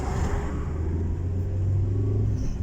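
A Renault Clio drives past on a street, its engine a steady low rumble that swells and holds for a few seconds, fairly close, with no talking.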